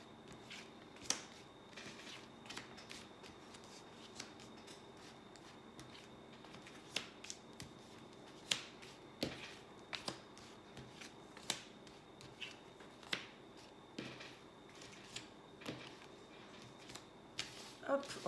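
Tarot cards are shuffled and handled for a fifteen-card reading, quiet riffles and a series of crisp card snaps and taps scattered irregularly, close but soft against a faint room hum.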